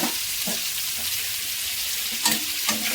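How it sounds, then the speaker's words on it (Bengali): Cauliflower pieces browning in hot oil in a pan, a continuous close sizzle broken by a few scraping stirs of a spatula, with no one talking. "কপিটা একটু ভেজে লাল লাল করে ভেজে নেব।"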